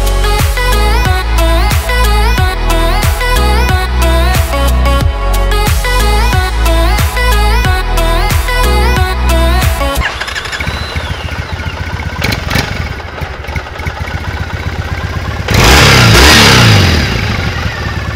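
A motorcycle engine fires up and revs with a steady rhythmic pulse, then settles into rougher idle and throttle blips, rising again near the end; close and loud, no talking.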